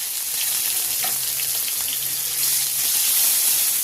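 A bay leaf and onion paste fry in hot oil, a loud, continuous close sizzle that holds steady throughout, with no voices.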